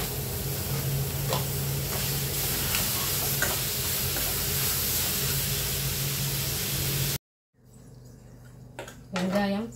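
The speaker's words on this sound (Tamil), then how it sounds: "இது கூட தக்காளி போட்டு வதக்கலாங்க." Onion, garlic, green chili and tomato sautéing in a pan for paneer butter masala, a steady broadband sizzle with faint stirring ticks that cuts off abruptly near the end, followed by quieter kitchen sounds.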